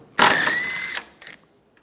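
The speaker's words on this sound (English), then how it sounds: "This side we're going to use a 12mm socket." A ratchet fitted with a 12mm socket loosens a tailgate latch bolt on a Chevrolet Silverado, giving a short, close burst of clicking followed by a brief second click.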